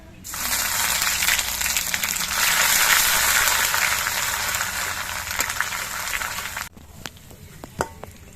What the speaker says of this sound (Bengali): সবকিছু ভাজা হয়ে যাওয়ার পর এর মধ্যে আমি একটু থেতো করা আদা দিয়ে দিচ্ছি।